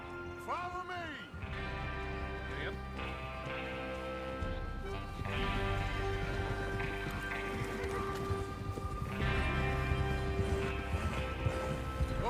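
Horses gallop in Red Dead Redemption 2 as a steady clip-clop of hooves runs under in-game character dialogue and background score, with a horse's whinny near the start.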